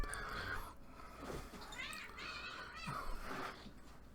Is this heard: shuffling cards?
no